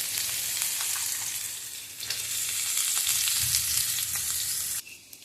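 Chopped ginger, onion and carrots fry in a pan with a steady, loud sizzle throughout, a few stirring scrapes breaking in, before the hiss drops away abruptly near the end.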